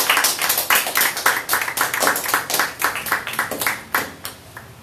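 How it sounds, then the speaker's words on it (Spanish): Church congregation clapping hands during a Spanish-language sermon, a rapid rhythmic series of sharp claps, fairly close and loud, with no talking over it. "Que se sientan esas palmas."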